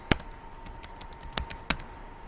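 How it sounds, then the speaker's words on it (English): A few sharp, separate keystrokes on a computer keyboard typing a surname, quiet and close, spaced irregularly with short gaps between them. "You type his surname in"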